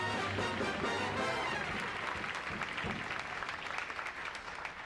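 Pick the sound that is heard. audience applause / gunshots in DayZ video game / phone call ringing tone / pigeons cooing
audience applause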